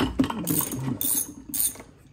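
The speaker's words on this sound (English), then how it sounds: "Loosen it with the wrench." Mechanical ratcheting as a wrench loosens bolts on a third-generation Toyota Tacoma during an oil change, with three short bursts of rapid clicking, close and fairly loud, and no talk.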